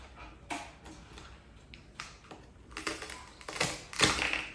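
A toy strawberry is cut apart, giving a scatter of light clicks and taps, then a few sharper, louder snaps toward the end, close and without any talking.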